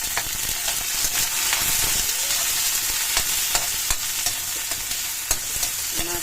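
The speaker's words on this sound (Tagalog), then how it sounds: "Mix naman guys yung kamatis." Tomatoes stirred in a frying pan, with a steady broadband sizzle and repeated scraping, clattering strokes of a utensil against the pan throughout, close and fairly loud.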